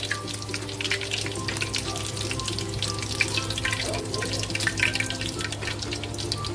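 Fried chicken in hot oil gives a dense, steady crackle and sizzle that stays close and loud from start to finish, with no speech over it.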